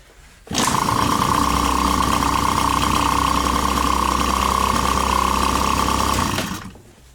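An engine catches after the ignition is switched on and runs at a loud, steady, even idle for about six seconds, then dies away; no talk over it.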